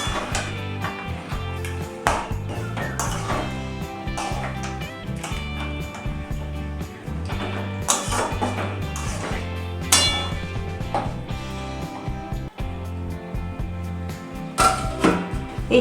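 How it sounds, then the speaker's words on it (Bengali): A pot of pointed gourd curry cooked with a fish head is stirred with a metal spoon, making repeated close clinks and scrapes against the pot in an uneven rhythm, with music playing steadily underneath. "নেড়ে চেড়ে ঢেকে দেব।"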